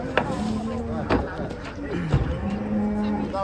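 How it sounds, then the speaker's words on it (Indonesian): Contest cattle lowing as they are unloaded from a truck at an APPSI cattle event in Tulungagung, with several deep, drawn-out moos spread across the moment, close by, while people chat over them. "penurunan sapi kontes ini guys di APPSI Tulungagung"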